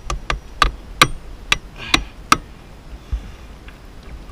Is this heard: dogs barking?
no